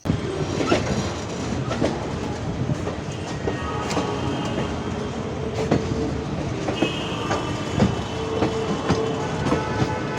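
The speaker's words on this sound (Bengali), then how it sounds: "হাওড়া জংশন থেকে ট্রেন ছেড়ে দিল এক নম্বর প্ল্যাটফর্ম থেকে হাওড়া টু জয়নগর এক্সপ্রেস" The 13031 Howrah to Jaynagar Express pulls out from platform one at Howrah Junction, a steady rumble of rolling coaches with rhythmic clickety-clack over rail joints and faint wheel squeals, heard from on board.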